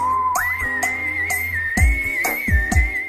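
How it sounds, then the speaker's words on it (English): Synth whistle tone played on a keyboard opens a film song, a sustained gliding melody line over soft bass and percussive hits that grow stronger toward the end, with no voices. "So this song starts with a 15-second whistle intro."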